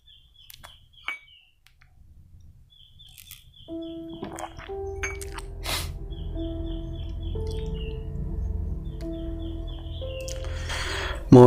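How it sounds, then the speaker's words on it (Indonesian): Birds chirp and call in a natural outdoor setting in the morning, thin high tweets scattered through the clip, later joined by a steady low background hum and tonal sounds. "di audio Anda itu banyak suara-suara burung, banyak suara-suara alam"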